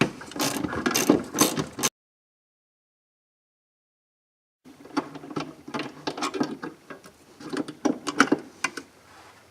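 A ratchet wrench loosens bolts on the rear defroster of a 2001 Buick Park Avenue, rapid close clicking bursts that break off for a few seconds of silence and then resume.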